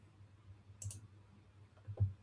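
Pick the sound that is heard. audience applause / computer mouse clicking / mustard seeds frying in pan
computer mouse clicking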